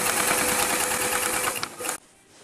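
A sewing machine runs steadily while stitching a kimono jacket from a kit, a continuous close whirring burst lasting about two seconds before stopping abruptly into quiet room noise.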